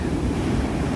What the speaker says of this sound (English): The sound of the waves roaring against that beach.